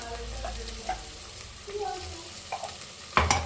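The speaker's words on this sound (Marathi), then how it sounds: "आणि लसूण आल्याची पेस्ट चांगली परतून घेते" Garlic-ginger paste frying over sautéed onion and tomato in a pan for egg biryani: a brief, close sizzle with soft stirring, ending in a louder clatter.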